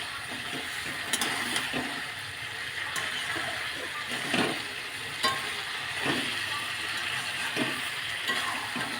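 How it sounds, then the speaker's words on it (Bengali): Potato, eggplant, tomato and spices are sautéed in a pan for a snakehead fish curry: a moderate, continuous sizzle with a soft rhythmic scrape of stirring that repeats every second or so. "এবারে আমি ভালো করে কষাবো আলু বেগুন টমেটো মশলা"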